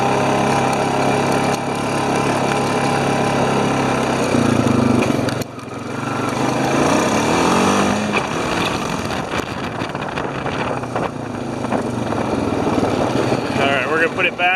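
A Honda Rancher 420 ATV engine runs steadily and fairly loud, with a continuous mechanical drone that shifts in pitch partway through as the throttle changes, with occasional voices over it.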